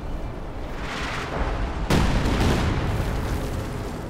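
Rocket fire and explosions in the WWII strategy game Company of Heroes 2: a steady roar of battle noise breaks into a sudden loud blast partway through, followed by a lingering rumbling boom.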